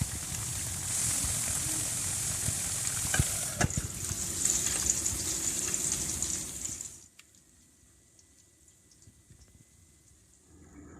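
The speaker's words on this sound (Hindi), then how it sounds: "इसी तरह से तमाम पीस फ्राई कर लेंगे" Chicken broast pieces fry in oil with a loud, dense, bubbling sizzle for about seven seconds, then the sound drops abruptly to near silence.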